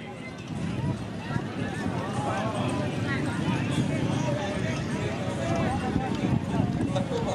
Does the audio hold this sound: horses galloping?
yes